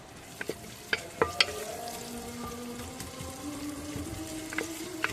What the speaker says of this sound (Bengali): পেঁয়াজ কুচি দিয়ে দেবো, পেঁয়াজটা লাল করে নিতে হবে।